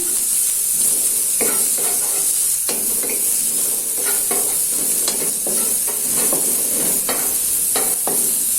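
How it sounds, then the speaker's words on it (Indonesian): Sliced shallots sautéed in a pan for rice porridge, a loud steady sizzle with frequent scraping stirs from a utensil, close up and without voices. "di sini untuk bawang merahnya ini saya tumis duluan"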